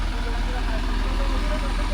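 A tractor engine idling at a village farm motor site, a continuous low rumbling drone close by with a steady throb, voices talking over it.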